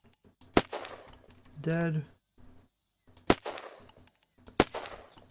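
Three loud, sharp gunshots in Unturned, spaced irregularly with quiet gaps between, and a short spoken word in the middle.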